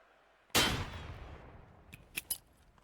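Grenade explosion in a competitive shooter video game: one loud, sharp blast that decays into a rumbling tail, followed by two short, sharp gunshot-like cracks a moment later, with no talking over it.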